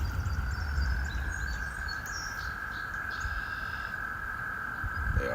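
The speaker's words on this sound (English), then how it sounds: "I think those are frogs going nuts in the background." Frogs croak loudly at night beside a stream, forming a dense, steady chorus that holds a constant high drone with scattered chirps and runs unbroken from start to finish.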